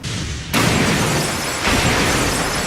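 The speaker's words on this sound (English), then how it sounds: "Somehow, Tanaka smashes through the wall" Anime sound effect of a wall being smashed through: a sudden loud crashing burst of rubble that keeps roaring as dense noise, with a second surge partway through and no talking.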